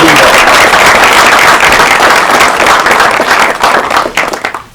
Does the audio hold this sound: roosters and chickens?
no